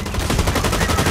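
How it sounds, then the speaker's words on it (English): Rapid automatic gunfire from the video game Blacklight Retribution, a dense burst of quick shots lasting about a second, loud and close. "There's bullet holes around that person that I was shooting at."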